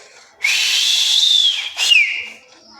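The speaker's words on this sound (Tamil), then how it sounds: "இப்போ நம்ம ஃப்ரெண்டு விசில் அடிச்சுட்டு இருக்கிறாரு" A person gives a loud, clear whistle close by, one long sustained tone followed by a short downward-sliding second note, with no talking.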